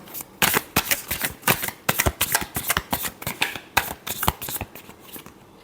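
A deck of tarot cards is shuffled by hand in a rapid run of crisp riffling bursts and flicks, close and fairly loud, with no talking over it.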